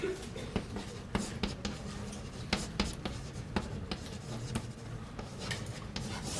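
Chalk or marker writing on a board in a university calculus lecture, a steady series of sharp taps and scratchy strokes at close range, with a faint voice briefly in the background.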